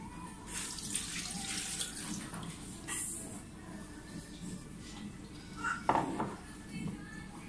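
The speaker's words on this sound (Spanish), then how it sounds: "Incorporamos el agua." Water poured from a tap or jug into a pan of pork and tomato stew, a soft splashing hiss with brief clatters, faint, and a voice speaks briefly during it.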